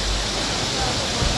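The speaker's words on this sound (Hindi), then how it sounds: "जो झरना है गिर रहा है" Bakthang Waterfall near Gangtok, Sikkim pours down as a loud, dense, continuous roar of falling water, close by and unbroken.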